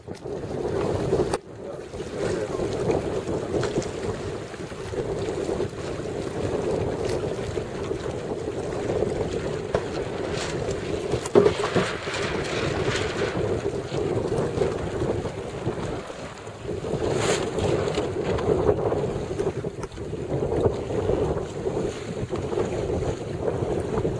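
Steady wind noise buffets the microphone aboard a Bembridge Illusion keelboat at the start of the first race, around 12 knots, with water and hull sounds beneath a continuous gusty rush that swells and eases.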